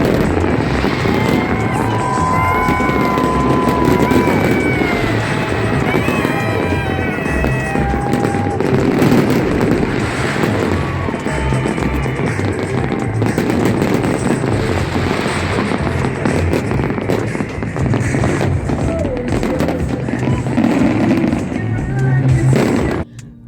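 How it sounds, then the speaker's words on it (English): Continuous crackling and popping bursts of New Year's Eve fireworks in Reno, loud and dense, with rumbling booms and faint voices and whistles mixed in throughout. "if you're lucky enough to be here for New Year's Eve, you'll get a spectacular fireworks show"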